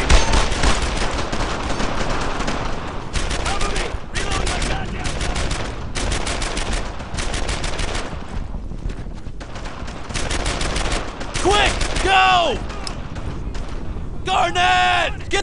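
Sustained rifle and machine gun fire in the World War II shooter Brothers in Arms: Earned in Blood, heavy bursts rolling on and off, with soldiers shouting over the shooting in the later seconds.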